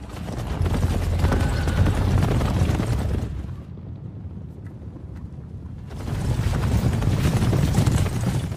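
Cavalry horses galloping in a historical battle film scene, a dense continuous rumble of many hooves with wind-like rush, loud and sustained, dipping briefly to a quieter stretch midway before surging again.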